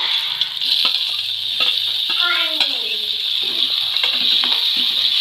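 Tomatoes with browned onions sautéing in a pan, a steady sizzle broken by occasional scrapes and clinks of a spoon stirring, with faint background voice and tonal sounds partway through.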